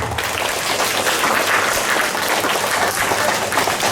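An audience at a school declamation competition fills the room with dense, steady applause that holds at full strength from start to finish.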